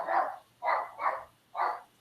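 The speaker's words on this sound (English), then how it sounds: "is going crazy, barking at the door" Four sharp, close dog barks at a door in an uneven rhythm, loud against a quiet room.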